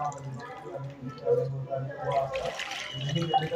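Water poured out of an overfilled container, a short splashing gush that rises in the second half, with a voice murmuring over a faint background hum.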